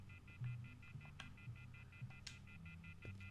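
Telephone in The Wolf Among Us, a steady repeating electronic tone pattern like a phone ringing or dial tone, heard at low level over a soft game music bed with occasional thumps.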